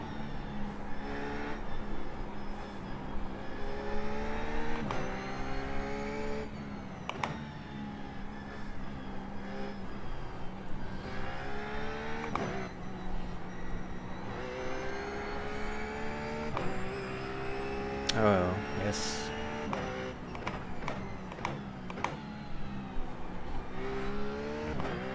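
A RUF GT3 race car engine in the iRacing sim drones steadily, rising and falling in pitch through gear changes and throttle lifts, loud and continuous with no talk.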